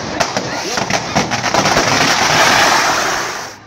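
A firework rocket going off on a canoe on a river in Puerto Berrío, a loud burst of crackling and hissing that swells into a sustained roar before fading, with voices in the background.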